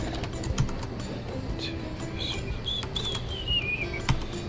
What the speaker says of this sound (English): I'm gonna type it in for you.